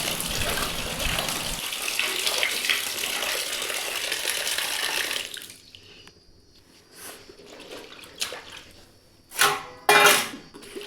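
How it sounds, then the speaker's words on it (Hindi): Leafy greens washed in a tub filled with water: steady loud running and splashing water at first, then quieter sloshing and handling with a few sharp splashes near the end. "पहले मैंने इसको एक पानी से बढ़िया अच्छी तरह टब में पूरा पानी भर के बाद धुला।"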